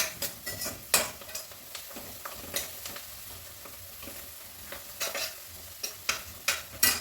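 Fenugreek leaves frying in a little oil while being stirred, giving a steady close sizzle broken by repeated sharp scrapes and taps of a spoon against the pan.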